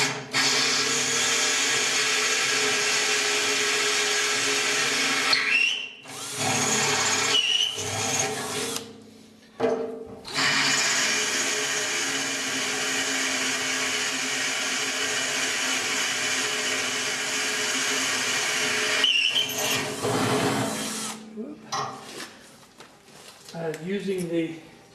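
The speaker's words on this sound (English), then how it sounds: "So I'm going to just drill and tap two, bolt them in place" A steady, loud power drill whine runs for long stretches while drilling holes in steel, stopping briefly a few times before starting again.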